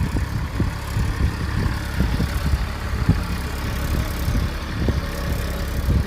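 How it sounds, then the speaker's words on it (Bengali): A soil-carrying lorry grinds slowly uphill, its engine a low, steady labouring drone with uneven throbbing pulses, fairly close and continuous with no talk. "আস্তে আস্তে গাড়িটা নিতেছে সামনে উঁচু জায়গা"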